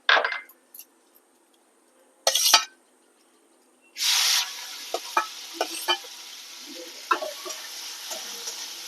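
Prawns hit hot oil in a kadai with loud bursts of sizzling, then a steady close frying hiss carrying scattered pops and spatters.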